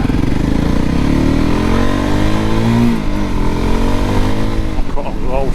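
A Voge 300 Rally motorcycle's single-cylinder engine revs up and pulls away, pitch climbing through the gears at close range, with a short dip as it shifts.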